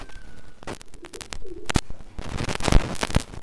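A golden pigeon coos close by, a few soft low throaty calls followed by fluttery rustling and handling noises.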